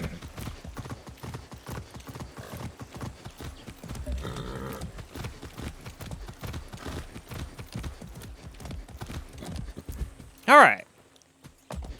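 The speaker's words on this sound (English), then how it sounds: "Let's go over here and do some horse donuts." A horse in the video game Far Cry 6 gallops in circles, with steady rhythmic hoofbeats throughout and a brief sharp whinny near the end, while someone talks over it.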